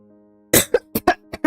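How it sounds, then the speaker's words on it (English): A person coughs in a quick burst of four or five harsh, close hacks after a half-second of quiet steady hum, with no speech. "Hold on, I got a cough."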